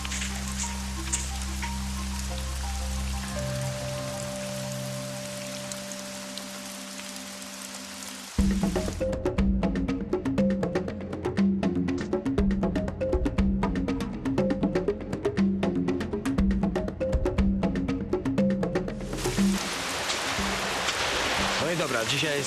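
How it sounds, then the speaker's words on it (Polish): Rain falls steadily in a deep Madagascar forest, a constant close hiss of drops with a denser patter through the middle stretch, while people talk intermittently. "Pada właściwie co chwila."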